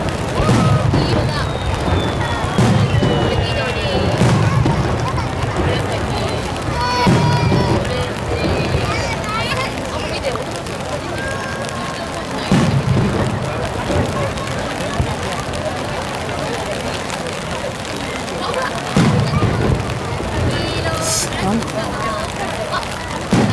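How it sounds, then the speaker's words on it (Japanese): Fireworks burst at the Fukuoka Higashi-ku fireworks festival, with several deep booms at irregular intervals over a steady hubbub of crowd chatter, and some crackling between. "福岡市東区花火大会です。"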